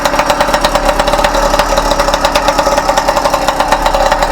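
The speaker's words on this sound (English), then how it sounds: "I got this fucking motor dialed in." A tuned small motor on a bicycle runs steadily at close range, a fast even rattling putter with a regular pulsing rhythm and no voices over it.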